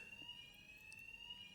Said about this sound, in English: Well, fire alarm's going off.